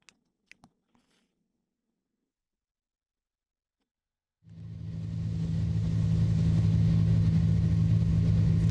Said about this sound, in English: Okay, we are driving in a car.